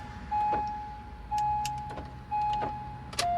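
An Acura MDX being cycled by key fob while ignition is toggled, three repeated electronic chime tones each paired with a soft mechanical thunk, ending with a sharper lock click and a different tone.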